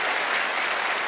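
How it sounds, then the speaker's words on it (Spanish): Studio audience applause on a Colombian TV talk show, a dense, continuous burst of clapping filling the brief moment at even loudness. "Un aplauso para él."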